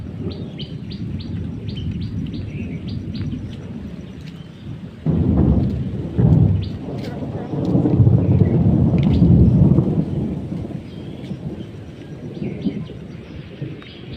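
Thunder rumbles outdoors during a summer rainstorm, with loud low rolls swelling in the middle and falling back, while birds chirp steadily and close by through the whole stretch.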